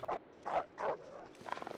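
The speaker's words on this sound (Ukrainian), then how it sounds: "Що ти гавкаєш?" A dog in The Long Dark survival video game gives several short yips and barks spaced a beat apart, followed by a quicker run of whimpering yelps, fairly close and clear.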